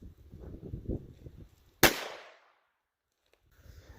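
Single sharp gunshot from a TX22 .22LR pistol fired into ballistic gel outdoors, one loud crack with a short ringing decay, preceded by quiet movement and handling noise.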